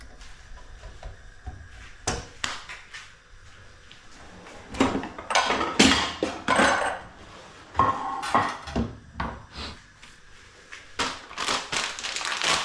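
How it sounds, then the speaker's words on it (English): Prawn taco sauce is stirred in a pan, with a utensil repeatedly clinking and scraping against the metal in close, irregular bursts that grow busier partway through. "So give that a stir."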